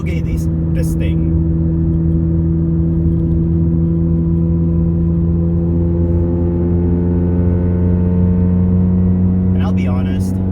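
A Honda Civic EM2 with a full straight-pipe exhaust drones steadily and loudly up close, a deep constant rumble held throughout with a faint whine rising slowly, and brief bursts of talk at the start and end.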